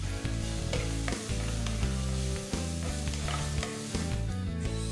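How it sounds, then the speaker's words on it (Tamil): Chopped onion, garlic cloves and a piece of ginger sautéing in hot oil for a chicken sukka, giving a steady close sizzle with scattered stirring clatters and no voices. "2 டீஸ்பூன் எண்ணெயை ஊற்றி இதில் 2 வெங்காயம் பொடியாக நறுக்குனது, 3 பல்லு பூண்டு, 1 துண்டு இஞ்சி இதெல்லாம் போட்டு நல்லா வதக்கணும்."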